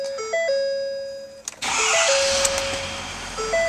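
A 2012 Ford F-350 Super Duty dually with the 6.7-liter Power Stroke diesel starts up after a few stepped electronic chime tones, cranking into a loud, steady, close engine rumble that runs to the end.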